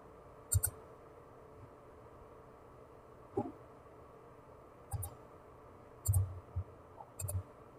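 A computer mouse clicks sharply and close by in a quiet room while a face is selected in CAD software, with about five isolated clicks, some of them quick doubles, spaced irregularly over several seconds.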